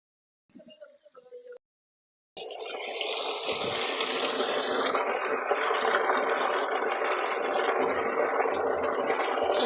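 Water from a motor-driven pipe pours steadily into a container, a loud continuous gushing rush that starts abruptly after a few faint mechanical clicks and a short silence.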